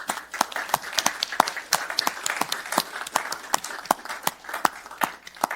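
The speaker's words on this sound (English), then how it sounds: "We can do a round of applause for the folks who've just spoken and been fighting on this." An audience at a county board of supervisors meeting claps for speakers, a moderate crowd with individual hand claps clearly distinguishable, steady and sustained throughout at medium distance in a meeting room.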